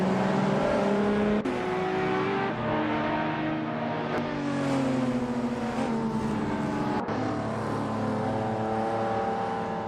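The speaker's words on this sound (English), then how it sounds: "the race just kicked off at Grand Valley Speedway short track" Race cars launching at the start of a short-track race at Grand Valley Speedway in a video game, led by a 1997 Mitsubishi twin turbo, a loud layered engine roar with rising revs and gear-shift breaks, no talk.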